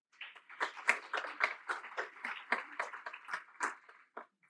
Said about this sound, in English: give a big round of applause to Rashmi Malpani